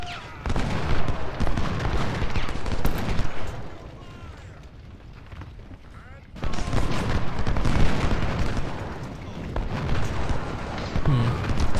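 Massed musket and artillery fire in the Civil War strategy video game Ultimate General: Civil War, a dense rumbling fusillade that swells, dips briefly, then builds again as a voice talks over it.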